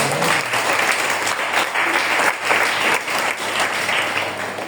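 Church congregation applauding during a sermon, a dense sustained crowd clapping that stays loud and steady throughout without a break.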